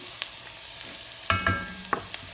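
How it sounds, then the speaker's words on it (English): Garlic sautés in a pan for black bean soup, a close, steady sizzle with a few sharp scrapes and clinks as it is stirred, heard alone without talk. "I'm going to put that garlic in."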